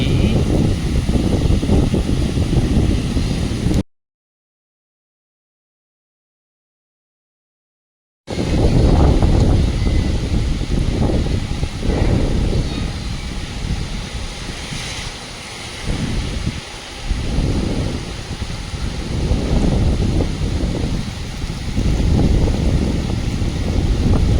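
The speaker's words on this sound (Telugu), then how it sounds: "చూడండి చల్లగా గాలి, ఆ వర్షం ఎంత ఆహ్లాదకరంగా ఉందో చెప్పడానికి" Cool wind during a rain shower in Hyderabad buffets the microphone as a loud, rumbling rush. It cuts out for a few seconds of silence, then returns, gusting unevenly.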